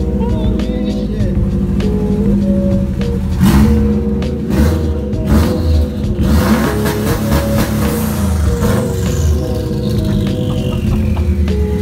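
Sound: Subaru WRX engine revving with exhaust removed

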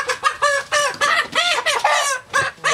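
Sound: Brahma chicken clucking on a poultry farm

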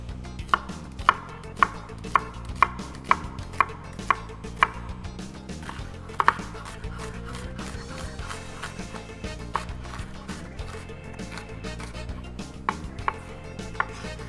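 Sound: slicing dry onions on a cutting board

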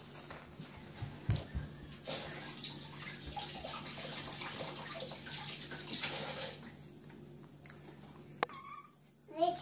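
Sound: washing something under running tap water

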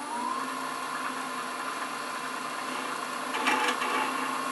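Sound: wood turning on a lathe with a half inch spindle gouge

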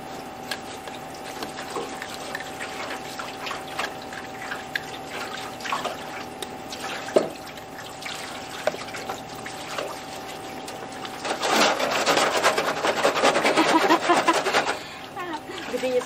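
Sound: washing a wheelbarrow, shovel and boots with water

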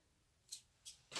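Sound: cutting the tip off a pipette

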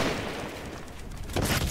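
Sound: distant gunshots in video game Fortnite

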